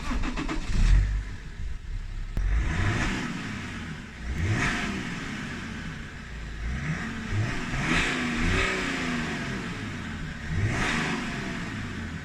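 A BMW E90 335d diesel engine revs repeatedly in bursts, rising and falling several times with a deep rumbling exhaust note, loud and close, with no talking.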